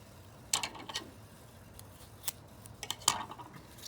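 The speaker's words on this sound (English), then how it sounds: "take our last gray strip and cut it in half" Scissors cut a gray paper quilling strip in half, with two bursts of crisp close snips separated by a quiet pause.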